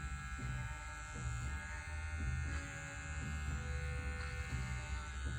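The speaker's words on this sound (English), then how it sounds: "The clippers are angled towards our end point." Electric hair clippers hum steadily at low volume, trimming hair during a boy's clean-up haircut, with faint shifts in tone as the blades move through the hair.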